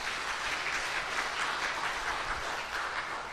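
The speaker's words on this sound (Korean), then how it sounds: "박수 한번 보냅시다" Applause from a church congregation during a sermon, an even, moderately loud patter of many hands clapping that continues without break from start to finish.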